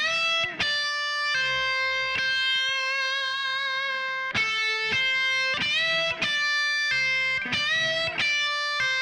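Electric guitar solo with picked notes, wavering vibrato on held tones and quick pull-offs linking faster passages, played clearly and alone at steady volume.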